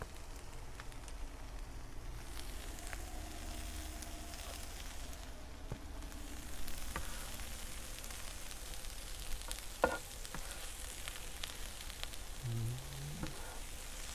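Onions, mushrooms and other fajita vegetables sizzle steadily in oil on a flat griddle, a soft continuous hiss with a faint clink near the end, heard alone without talk.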